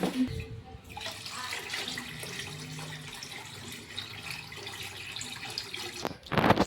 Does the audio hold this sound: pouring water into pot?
yes